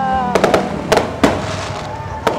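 Fireworks display exploding at a Christmas light show, several sharp close bangs and crackles at an uneven rhythm, loud and dense over a continuous roar of crowd noise.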